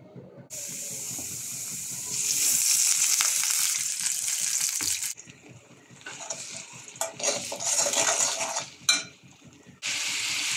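Small fish roe frying in a pan gives a loud, hissing sizzle that swells and fades in long stretches, with bursts of stirring and a brief clatter near the end.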